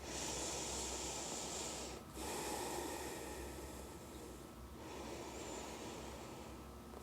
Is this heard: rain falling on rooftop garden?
no